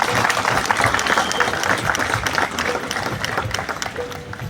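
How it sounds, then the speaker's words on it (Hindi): Audience applause at the opening ceremony of a junior boys' national handball championship held at a school in Pitampura, a dense, steady wash of clapping from a sizeable crowd that carries on throughout with faint voices mixed in. "मैं चाहूंगी जोरदार तालियां आप अपने लिए बजाएं"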